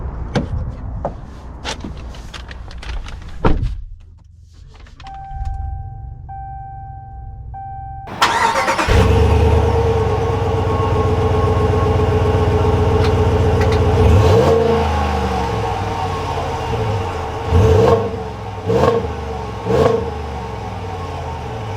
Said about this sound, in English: let's take this Laramie Sport out and see how it drives.